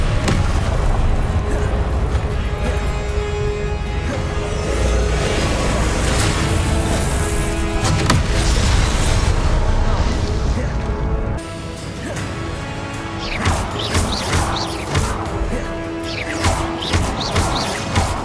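Confringo blasting spells in a Hogwarts Legacy boss fight set off repeated heavy crashes and booms over a dense, continuous din of battle that drops in level partway through, followed by scattered sharper impacts.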